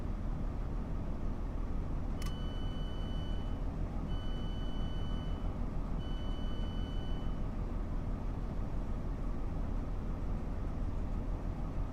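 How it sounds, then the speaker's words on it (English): A passenger train's door warning chime in the Train Sim World 2 simulator sounds as the doors open, three repeated tonal beep bursts over a steady low rumble of the idling train, with no talk. "So we're going to open the doors."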